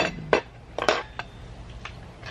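Cutlery clinks and scrapes against a plate while someone eats pizza with a knife and fork, a few sharp metallic taps close by, with quiet room noise between.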